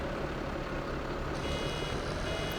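Steady electronic warning beeps from a baler in Farming Simulator 17, repeating over a constant mechanical engine drone of farm machinery.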